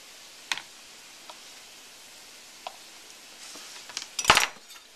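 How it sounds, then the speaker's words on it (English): Meat being stirred in a cooking pan while preparing rabbit, scattered metallic clinks and scrapes of a utensil against the pan with a louder clatter near the end, close and without talk. "And into the pan with you. Give that another stir."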